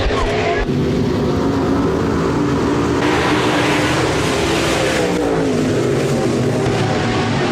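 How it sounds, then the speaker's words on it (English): USRA B-Modified dirt-track race cars at Rapid Speedway roar away at the start of a heat race, a dense, loud, continuous engine drone filling the whole stretch with layered revving, and faint announcer-like voice beneath. "Under green for heat race number 2 of 3, J&L RV Sales, USRA B-Modifieds."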